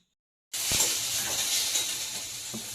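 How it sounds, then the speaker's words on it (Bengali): After a brief silence, potatoes start frying in oil with a steady, bright sizzle that continues evenly to the end. "আলু ভাজা চলছে, আলু ভাজছি।"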